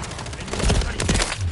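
Gunfire in a video game: a rapid burst of shots in a short dense fusillade, loud and close, with faint voices in the background.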